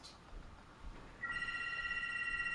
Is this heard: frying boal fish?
no